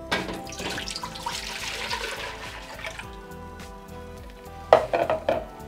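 Liquid pours into a cooking pot for making no-sugar-added apple butter, a steady watery gush with clinks and splashes that quiets midway, then a few louder sloshes near the end, close and alone.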